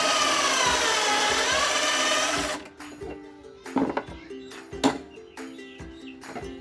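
A drill screams loudly for a couple of seconds as it bores a pocket hole into plywood using a Kreg 320 jig, then stops, leaving clunks and handling noises as the workpiece is moved.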